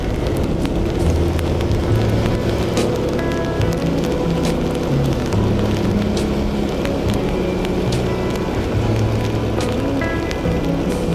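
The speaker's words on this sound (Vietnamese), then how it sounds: "Mùa này có những cơn mưa mà có từng cơn vậy đó." Steady rain falling in the mountains near Da Lat, a dense continuous patter of drops on surfaces that stays loud and even throughout, with no voices.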